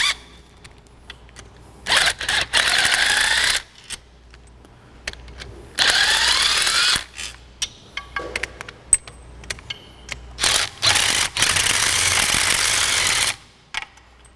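An impact wrench runs out the supercharger bolts on a Hellcat, firing in three loud, close bursts of buzzing rattle separated by pauses, with small clanks of tools between them.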